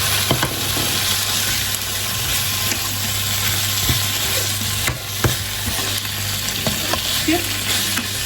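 Pork bones are stir-fried in a hot pan, giving a loud continuous sizzle with repeated clacks and scrapes of stirring throughout.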